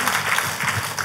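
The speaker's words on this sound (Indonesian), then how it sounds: "Tepuk tangannya yang meriah buat Tuhan kita." A church congregation at a healing sermon applauds, a dense, steady burst of clapping from a crowd filling the room, loud and continuous.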